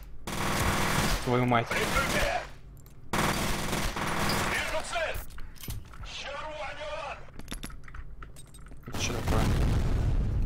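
Bursts of automatic gunfire and booming shots from the video game F.E.A.R., loud rapid volleys separated by quieter gaps, with someone talking between them.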